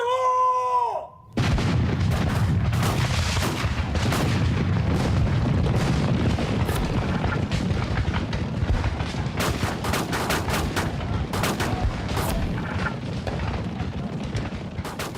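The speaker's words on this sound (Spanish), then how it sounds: "se escuchó el primer cañonazo" Heavy cannon and artillery fire in a street battle, a dense, sustained roar of booms and crackling gunfire running loud and continuous after a brief opening tone.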